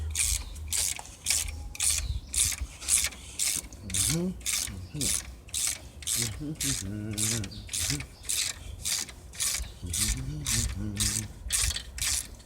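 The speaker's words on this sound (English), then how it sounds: "Then you take the other side, put your ratchet up on there" A ratchet wrench loosening a rear strut nut on a Hyundai XG 350, giving rapid, even clicking strokes close by throughout, with faint mechanical rubbing and a few brief murmured sounds beneath.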